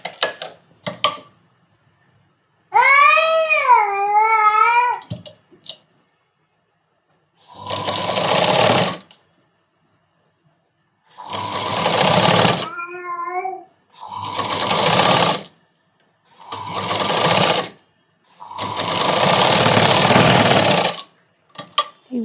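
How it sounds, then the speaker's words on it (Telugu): A sewing machine stitches a kids' night dress in several loud, close bursts of steady whirring, each lasting a second or two with silent gaps, while someone talks between and at the start of the runs. "ఈ విధంగా రెండు హ్యాండ్స్ అనేది స్టిచ్ చేసుకోవాలి"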